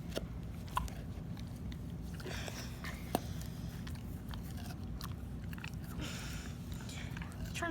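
A dog with sore teeth chews crunchy food close by, giving irregular crisp bites and crunches over a low steady background with no talk.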